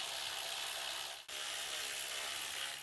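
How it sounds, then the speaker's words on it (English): A hand ratchet works loose the 10mm valve cover bolts on a Honda Pilot, a close, loud, steady stream of rapid clicking that breaks off for an instant partway through, then resumes, with no voices. "Let's go ahead and pull off our valve cover fasteners. There should be 5 10mm bolts."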